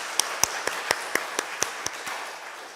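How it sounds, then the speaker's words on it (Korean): A church congregation at a Sunday worship service claps in a short burst of about ten crisp, fairly close claps, spaced unevenly over a few seconds, with no talk. "네, 하나님께 영광의 박수 올리겠습니다."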